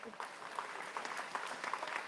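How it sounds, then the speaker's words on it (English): Faint, distant applause from a crowd at a cattlemen's steak fry, honoring the governor, a quiet patter of clapping with scattered voices underneath. "One more round of applause for your 57th governor."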